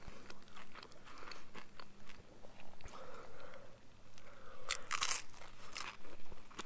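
Close, crunchy chewing of crisp food, with irregular bites and crunches repeating steadily, louder crunches near the end.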